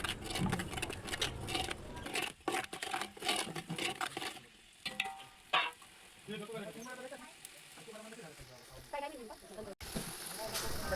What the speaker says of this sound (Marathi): मसाला असा छान तेलावर परतून घ्यायचा